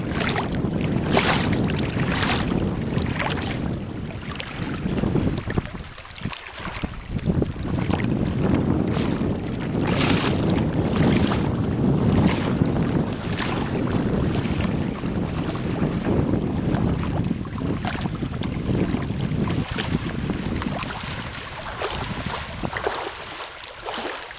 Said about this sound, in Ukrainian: Послухаємо хлюпання, хлюпання хвиль.